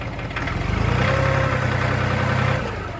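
A loader engine idles steadily, then its pitch rises slightly as it revs up for a couple of seconds before settling back down.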